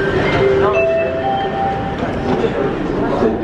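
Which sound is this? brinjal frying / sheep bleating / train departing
train departing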